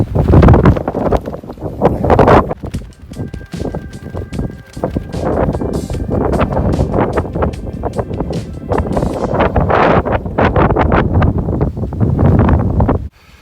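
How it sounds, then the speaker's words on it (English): A strong sand storm wind on the Pacific Crest Trail roars and buffets the microphone loudly and continuously, with choppy gust thumps throughout and a sudden drop at the very end. "Been fighting the wind."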